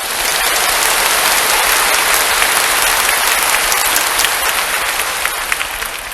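A church congregation bursts into loud, sustained applause during a Korean sermon, a dense wash of clapping that holds steady from start to finish with no voices standing out.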